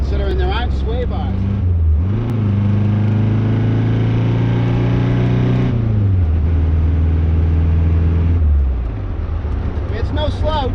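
A 1974 Saab Sonett's engine drones loudly from inside the car while driving, its pitch rising and falling through gear changes, with a person talking over it.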